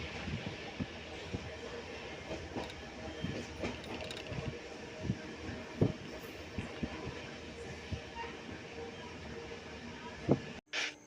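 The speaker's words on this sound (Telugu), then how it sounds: "ప్లాట్ఫామ్ నెంబర్ 2కి అయితే మన ట్రైన్ వచ్చింది" A MEMU passenger train arriving at a station platform rumbles and clanks steadily, with repeated metallic knocks and rattles of wheels and couplings, moderately loud and close.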